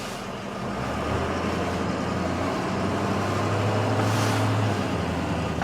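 A 2004 Ford F-350 with the 6.0L diesel, running rough, pulls back onto the highway, its engine drone and road noise steady and close throughout with a low rumbling hum.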